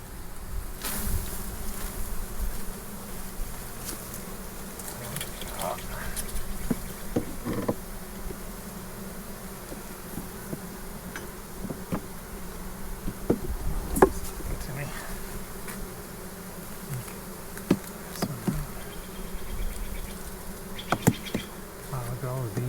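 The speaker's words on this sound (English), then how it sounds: "look at all those bees" Honey bees buzz around an open hive during a check of a new swarm and a year-old colony, a loud continuous droning hum close by, dotted with scattered knocks and clicks of hive equipment.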